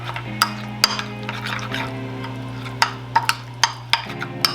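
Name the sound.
stirring tofu marinade with oil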